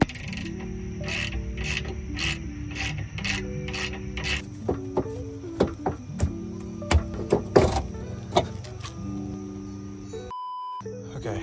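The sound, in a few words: loosening rusty suspension bolts during camber arm removal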